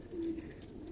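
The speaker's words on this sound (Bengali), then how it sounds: "এখানে কিন্তু অনেক সুন্দর সুন্দর কবুতর আছে" A pigeon coos once, short and low, at a pigeon market selling many varieties of pigeons and colored breeds, with faint crowd murmur behind it.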